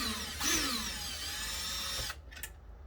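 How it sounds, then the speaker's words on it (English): A cordless power drill with a magnetic tip whirs steadily for about two seconds while removing headlight screws on a Corvette, close and loud, then spins down and stops, followed by faint handling clicks. "What's cool about getting a magnetic tip on your drill is this tip will actually end up being magnetic"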